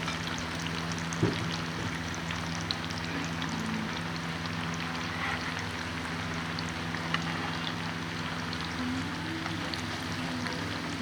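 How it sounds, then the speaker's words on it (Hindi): Aloo pakoras, potato fritters, bubble and crackle in hot oil with a steady, even sizzle and faint pops throughout, close by and with no voices. "अभी मेरे पकौड़े जो है फ्राई हो रहे हैं"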